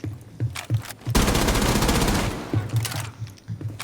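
A loud, sustained burst of automatic gunfire in Rainbow Six Siege on the training grounds, lasting about a second and a half, set between softer scattered game thuds and clicks.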